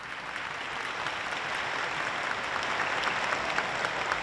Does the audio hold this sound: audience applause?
yes